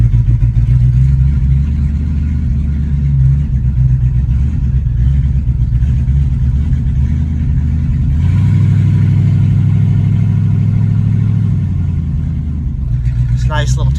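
A 1958 Plymouth Belvedere with a 392 Hemi and open exhaust rumbles deeply as it is put in drive and pulls away, the low engine note swelling midway while someone talks over it.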